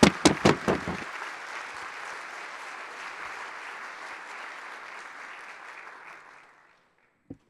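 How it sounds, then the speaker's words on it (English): Audience applause for performers at an anniversary program opens with a few sharp close claps, then becomes a steady crowd clapping that fades out after about six seconds, followed by near silence and one last clap. "Give them one more round of applause."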